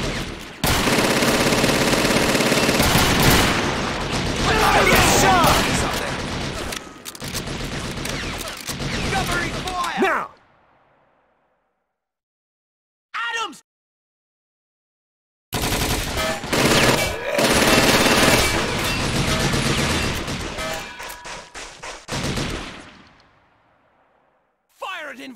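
Machine gun fire in a Call of Duty 2 mod battle: loud, rapid sustained bursts that cut off into sudden silences, a short isolated burst, then another heavy volley, with shouted voices in between.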